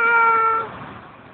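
A single drawn-out meow from a pet cat, close and loud, holding steady before trailing off into quiet room noise; no one talks over it.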